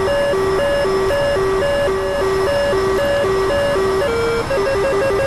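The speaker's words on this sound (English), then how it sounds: "So we're about to hear the track or lock warning," A loud electronic radar lock warning tone in a DCS World aircraft cockpit alternates between two pitches in a quick, steady pattern, repeating insistently over a constant background hum.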